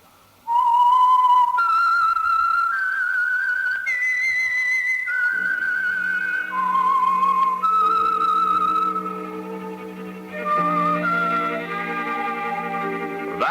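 A whistled signature theme opens the 1946 Signal Oil radio program The Whistler. It is a loud, clear melodic whistle of a dozen or so sustained notes, later joined by an orchestral accompaniment, with no talk.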